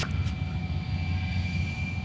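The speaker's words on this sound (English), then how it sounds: "as planes fly low overhead" Low-flying planes pass overhead outside beside an El Camino out in the Middens, a steady broad roar with a constant high whine, continuous and fairly loud for the whole stretch with no talking.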